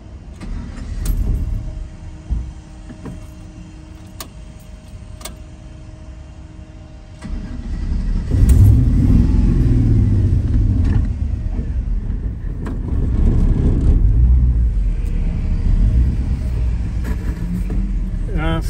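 A vehicle's engine starts after refuelling and rises into a sustained rumbling rev, preceded by clicks and rustling, loud and close with a person talking at times.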